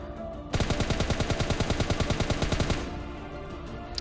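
A long automatic burst of gunfire from an enemy bot in a squad shooter game, rapid evenly spaced shots lasting a couple of seconds, loud and close, followed by quiet.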